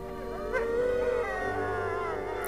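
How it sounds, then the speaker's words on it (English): A sustained, wavering howl of wolves rises and holds at a moderate distance, a low continuous tone throughout the short span. "And that terrible howling, and not for much money would I have such death music."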